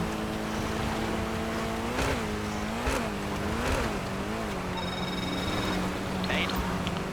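A car engine in GTA 5 Online whines and revs with rising and falling pitch while tires squeal during a drift, as people talk over the racing noise.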